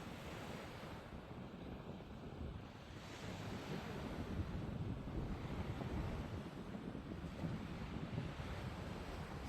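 Waves surge and wash steadily onto a West Sea shore, a continuous broad roar with swelling crashes, mixed with wind buffeting the microphone.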